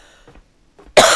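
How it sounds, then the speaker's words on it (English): A single loud, close cough bursts out at the very end, following a few soft breathy sounds and near silence. "I'm sorry for coughing out."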